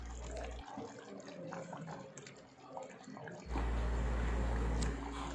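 Water poured into chicken gravy in a new cooking pot, a steady close rush of liquid that swells louder toward the end, with no speech.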